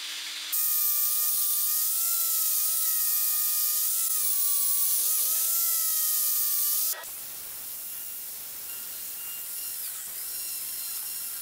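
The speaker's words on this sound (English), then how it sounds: "So I get to it with a disc and really scrape it back." Abrasive disc scraping the steel hinges of a 1940s folding chair, a loud continuous high grinding whine with slight pitch wobble for several seconds, then stopping abruptly and leaving a quieter rough hiss.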